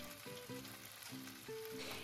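Beef chow fun with rice noodles, mung bean sprouts and green onion stir-frying in a hot wok, a loud close sizzle broken by rhythmic metallic clanks and scrapes as the food is tossed.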